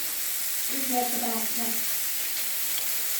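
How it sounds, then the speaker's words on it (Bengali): Nigella seeds (kalo jeera) fry in a little oil, giving a steady broad sizzle and hiss heard close up, with a voice speaking briefly over it. "এইখানে দিয়ে দেবো আমি কালো জিরাটা"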